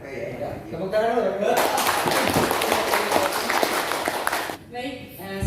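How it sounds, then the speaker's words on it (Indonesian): Audience applause in an Indonesian reflection event hall, a dense burst of clapping lasting about three seconds, loud and close, with speech before and after it. "Tepuk tangan dulu."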